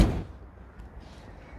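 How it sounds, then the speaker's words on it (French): A door swung shut in a home garage, one heavy thud at the start that dies away into low room rumble. "On va fermer cette porte."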